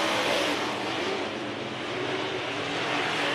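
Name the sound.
dirt track race cars coming off turns 3 and 4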